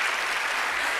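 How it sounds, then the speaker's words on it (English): A stage-show audience claps in a steady, dense burst of applause that fills the whole brief moment, with no speech over it. "everyone please give a big round of applause for Allison"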